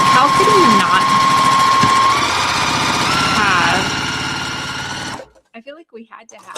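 A sewing machine runs fast and steady as it stitches together quilt block corner units for a Louisiana-themed quilt, the whine lasting about five seconds before stopping, followed by quieter intermittent clicks and handling.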